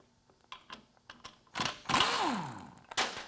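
A 10 mm bolt is worked loose from the speedometer housing of a 700R4 automatic transmission, with scattered close metallic clicks and taps, then a louder burst of ratchet or wrench rattling and scraping near the end.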